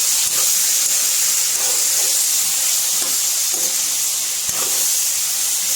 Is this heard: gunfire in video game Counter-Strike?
no